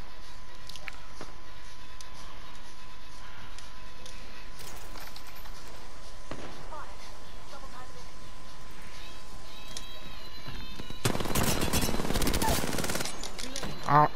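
Apex Legends gunfire: after a long stretch of quiet game ambience, a dense rattle of rapid automatic shots breaks out near the end, fairly close and loud.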